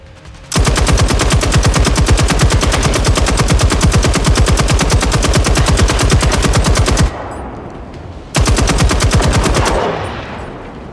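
Sustained automatic gunfire from a weapon in the shooter game Generation Zero, a loud rapid burst of about six seconds, a short pause, then another burst that trails off into a fading echo.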